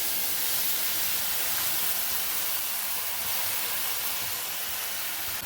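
Milk pours into roasted vermicelli in a hot pan with a loud, steady hissing steam rush, broadband and continuous from start to finish without talk.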